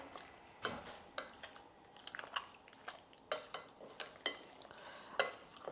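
Lamb marinade with cumin powder being mixed by hand in a bowl: quiet, irregular clinks and scrapes of a spoon against the dish, spaced out over a few seconds with no talking.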